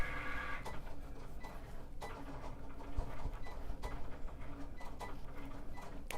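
A Cricut cutting machine works through a long cut with a faint, continuous mechanical whir, punctuated by light regular ticks and clicks as the carriage moves.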